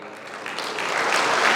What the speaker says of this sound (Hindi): शुभकामनाओं पे इतनी कम तालियां